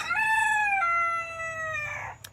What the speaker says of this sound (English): So you can hear all the roosters.